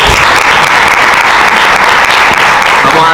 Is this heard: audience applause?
yes